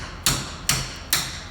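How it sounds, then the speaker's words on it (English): A hammer strikes an Allen key resting on a dental flask compress in four firm, evenly spaced metallic taps, close and clear, with a short ring after each blow and no talking. "just put your Allen key on top of your compress and just tap it counterclockwise with a hammer"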